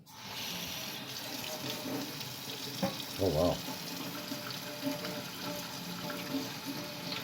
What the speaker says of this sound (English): Let's take some water and scrub to it and see what we got.